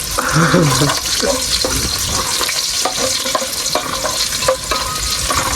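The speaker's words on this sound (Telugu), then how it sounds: "నాలుగు పచ్చిమిరపకాయలు బాగా వేగిన తర్వాత ఉల్లిగడ్డలు వేసుకున్నాము" Green chillies and onions frying in a pan during outdoor cooking beneath a truck, a loud continuous sizzle with frequent scraping stirs and some faint background noise.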